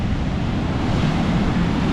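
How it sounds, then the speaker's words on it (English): Big surf breaks on Flagler Beach, Florida, during Hurricane Idalia, a loud continuous roar mixed with strong wind buffeting the microphone. "Oh wow, nice waves."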